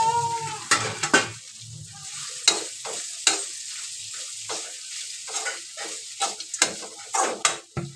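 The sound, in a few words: soaked flattened rice (poha) stirred and sizzling in a pan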